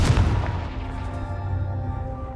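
A Confringo blasting spell detonating in the game Hogwarts Legacy, one loud booming explosion up front that rolls into a long, fading rumble with a ringing tail.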